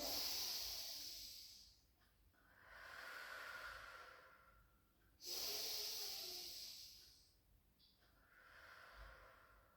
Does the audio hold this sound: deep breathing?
yes